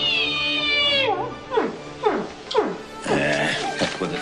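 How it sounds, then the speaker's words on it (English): A whale call is heard by a submarine crew in a naval war film: a loud sustained tone, then three descending moans in steady succession and a final wavering cry, with no talk. "Sounds like a whale."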